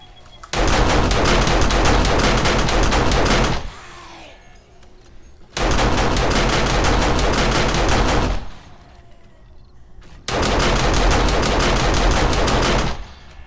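Three long bursts of rapid automatic gunfire aimed at a zombie horde in the survival game 7 Days to Die (Alpha 16), each lasting about three seconds, loud and close, separated by short quieter gaps.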